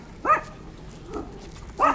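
A dog barks outdoors in a park-like area, two sharp close barks about one and a half seconds apart with a softer yip between them.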